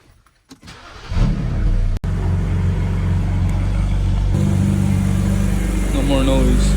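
A BMW car engine starts after a belt replacement, with a brief click and cranking, then catches into a steady, close idle that holds to the end. No one speaks.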